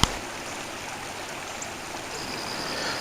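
Steady rushing of a river flowing over shallow riffles, a continuous broadband wash with no talk, close and even throughout.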